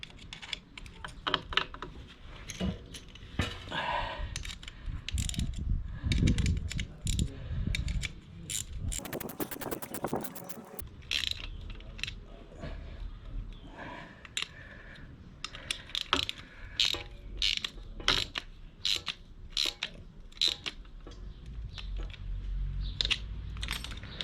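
A ratchet tightens bolts while LSL rear sets are fitted to a Moto Guzzi V7, giving rapid clicking bursts and sharp ticks in repeated runs, close, with some handling clatter and a louder rattling stretch midway.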